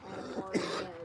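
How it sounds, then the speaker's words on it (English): A smoker's cough bursts out once, short and rough, near the middle of a brief stretch, fairly close against a low murmur of background sound. "Sorry, smoking cough."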